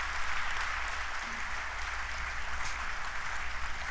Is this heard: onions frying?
no